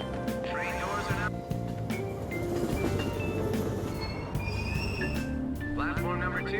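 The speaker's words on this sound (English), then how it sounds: "Train doors are now closing." Busy Tokyo train platform in Persona 5 Royal, with a steady rumble of rail noise and station ambience, chime-like tones rising at the start and end, and announcement voices running throughout.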